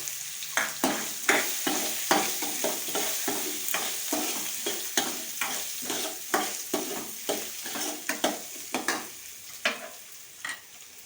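Chopped onions hitting hot oil in a pan and frying for a spiced potato dosa vada filling, with ginger-chili paste and asafoetida, sizzling steadily under a quick, repeated scrape-and-clatter of stirring, close and fairly loud with no talk.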